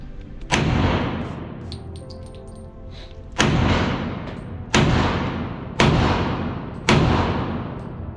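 Five loud, sharp gunshots from a handgun at a range, each with a booming echo that decays, spaced roughly a second apart after the first, heard close and alone.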